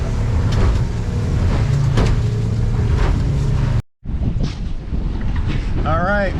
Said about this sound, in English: The wind is a little nasty, which is making our drift a little too fast